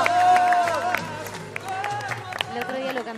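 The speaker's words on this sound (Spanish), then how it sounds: "Aplaude el jurado," A studio audience and jury applauding on a television talent show, a moderate wash of clapping and crowd noise with a voice speaking over it throughout.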